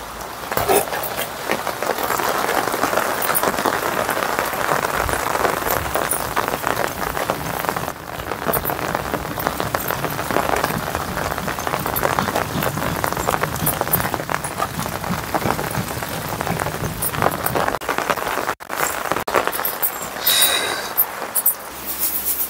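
Steady rain pouring down outside a home, a dense continuous hiss of drops on surfaces that holds constant throughout, close and fairly loud with no voices.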